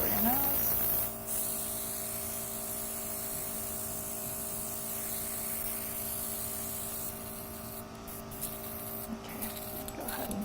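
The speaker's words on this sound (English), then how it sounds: "I'm going to spray over your nose." Makeup spray is applied over a person's nose during an SFX makeup painting lesson: a steady, close hiss runs unbroken for about ten seconds over a faint electrical hum.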